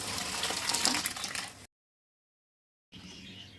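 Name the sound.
lentils (dal) being poured into pan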